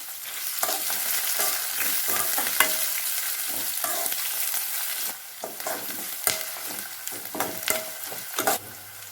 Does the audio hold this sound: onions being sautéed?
yes